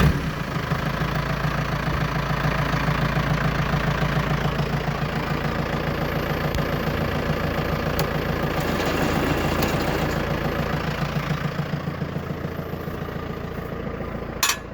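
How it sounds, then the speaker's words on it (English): A tractor engine running at idle, a steady low rumbling throb with an even mechanical knock, close and fairly loud throughout with no talk. "I'm going to start the tractor up. I'll run it about, and I'll just run it at idle"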